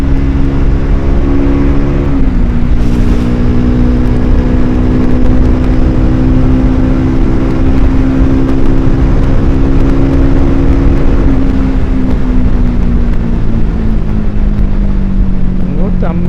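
A Triumph Speed 400 motorcycle accelerates hard to about 150 km/h. The engine drones loud and steady, its pitch climbing, dipping briefly at a gear change, then rising again, with heavy wind rush throughout.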